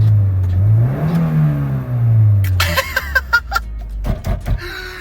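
A van engine revs loudly, its pitch climbing and falling in rough, rattly surges, then drops into a choppy idle with clunks and knocks.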